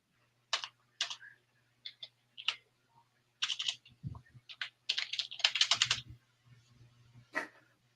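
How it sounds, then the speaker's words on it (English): Bursts of rapid key clacks from a computer keyboard, close and crisp, in uneven clusters with short pauses between them. "We can hear Angeline punching the keyboard."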